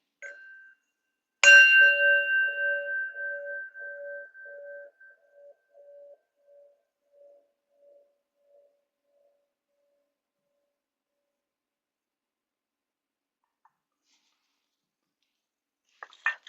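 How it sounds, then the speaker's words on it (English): A single meditation bell is struck once during a chair yoga session, its clear tone ringing out and slowly fading over several seconds into silence. "taking the sound of the bell, following it to the end"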